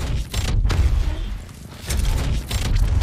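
Cannon fire in the Fortnite video game, several heavy booming blasts in quick bursts with dull low thumps and short gaps between volleys, loud and close.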